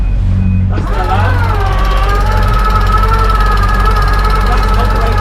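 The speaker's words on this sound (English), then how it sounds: "That's the alarm." On an Elan I45 sailboat, the alarm of an electric push-button sail furling system sounds as a loud, steady, slightly wavering electronic tone over a low engine drone, starting about a second in and continuing to the end.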